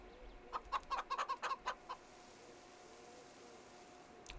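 Chickens in the Farming Simulator 25 video game cluck in a quick burst of about eight rhythmic notes, then fall quiet over faint background hiss, with one more cluck at the end.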